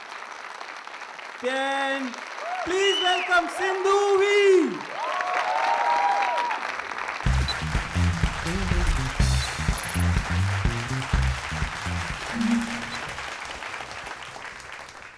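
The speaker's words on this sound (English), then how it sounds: "can we start with a round of applause at 3?" A comedy club crowd responds with waves of applause and cheering as a comedian is introduced, rising from a scattered clap into a loud, full ovation, with a host speaking and amplified announcements over it.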